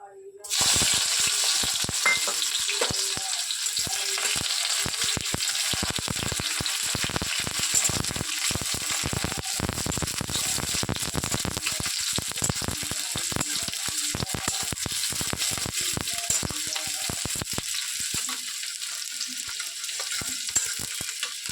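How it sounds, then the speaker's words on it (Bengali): Onions frying in about half a cup of hot oil in a kadai, producing a loud, continuous close sizzle with dense crackles and bursts of popping throughout, no one speaking. "আমি কড়াইটি গরম করে 1/2 কাপ মতো তেল দিয়ে দিয়েছি। এবার পেঁয়াজগুলোকে দিয়ে দেব ফোড়নে।"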